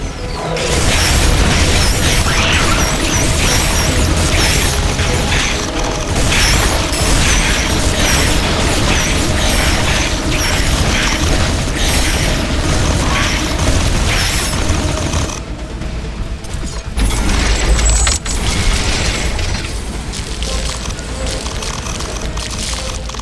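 Base buildings explode under attack in the video game The Riftbreaker: loud, dense booms and mechanical clatter run almost without a break, briefly thinning near the end before surging again.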